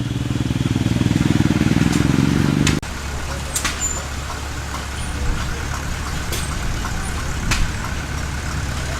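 Royal Enfield motorcycles thump past at a classic car show, one heavily stickered, with a loud steady engine note up close for a few seconds that then cuts away to quieter background rumble and faint voices.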